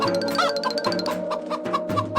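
A cartoon chicken clucks in a Hindi animated desi comedy, with short repeated clucks over a steady musical background at moderate loudness.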